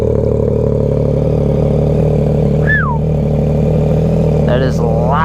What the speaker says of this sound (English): First startup on the new exhaust.